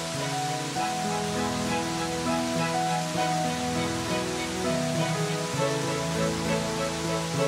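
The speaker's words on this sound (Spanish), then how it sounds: "Hay cascadas por todos los lados" Waterfalls along the Aján river trail near Vega de Pas in the Valles Pasiegos make a constant, dense rush of falling water that holds at an even level throughout, with no voices.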